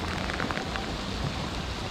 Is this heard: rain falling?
yes